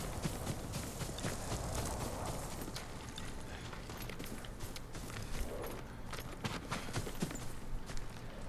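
Horse hooves clip-clop in Ghost of Tsushima, a steady run of close hoofbeats over a rustling outdoor background, fairly quiet and with no talking.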